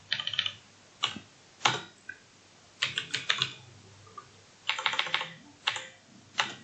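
Code being typed on a computer keyboard, heard close up as clusters of quick clicky keystrokes in short irregular bursts separated by brief pauses, with no voices over it.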